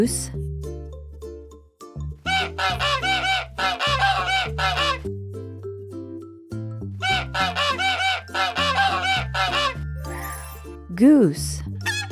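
A goose gives a rapid series of loud, repeated honks in two clusters over a bouncy children's music track, ending with a short rising call.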